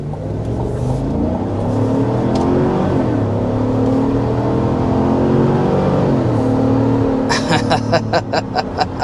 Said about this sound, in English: we want to first start off with a hard acceleration